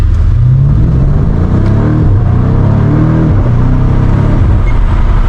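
A BMW M5 Competition with a 4.4-liter twin-turbo V8 drives at night, its loud, deep engine note rising and falling through repeated revs and gear changes, heard close up with no talking.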